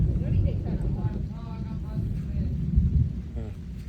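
Heavy rain with deep, rolling thunder rumbles low and continuous, while voices talk over it.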